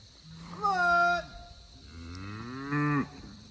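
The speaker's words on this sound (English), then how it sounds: "So this cow number 18 right here" A cow on a grass-fed beef cattle farm gives two loud, drawn-out moos close by, the first rising and falling and the second lower and groaning, with a short quiet gap between them.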